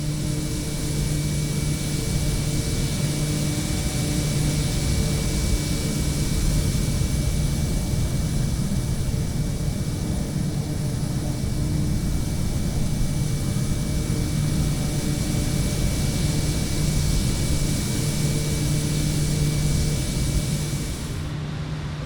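Simulated airplane in flight in Microsoft Flight Simulator 2020, heading toward Old Faithful in Yellowstone National Park: a constant, loud engine drone with steady hum and wind-like noise, unbroken for the whole stretch, with no talking.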